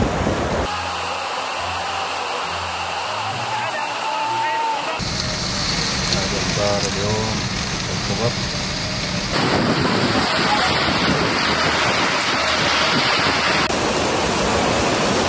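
Heavy rainstorm lashing Dubai, a dense, steady roar of pouring rain and rushing water that stays loud throughout, with the sound changing abruptly between different shots.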